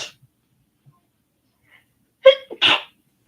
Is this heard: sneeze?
yes